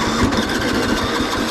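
A lawn mower engine cranks and catches, a close, loud, rhythmic chugging that stumbles on too much fuel, with no talking.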